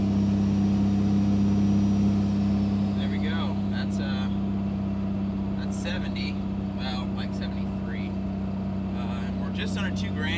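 A Cummins 5.9 diesel truck with a 5-inch Magnaflow muffler and axle-dump exhaust drones steadily at around 1900 rpm, a loud, deep, even rumble that runs throughout while people talk over it.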